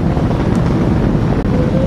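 A SpaceX Falcon 9 rocket carrying a crewed Dragon capsule climbs after liftoff, heard as a loud, continuous low roar with a wind-buffeted rumble that stays steady throughout.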